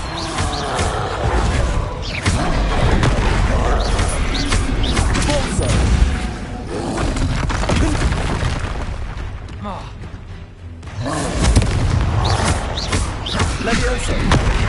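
Spellcasting combat in the video game Hogwarts Legacy, with the Expelliarmus spell among rapid bursts, booms and thuds layered over dense game effects and music, loud and continuous with a brief lull near the end.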